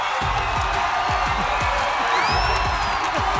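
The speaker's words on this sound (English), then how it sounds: "Voices rose together as the crowd began to chant, "Ethan! Ethan! Ethan!"" A large stadium crowd cheers and roars continuously at a football match, with a steady wash of voices and rhythmic thumping beats running underneath, loud and sustained throughout.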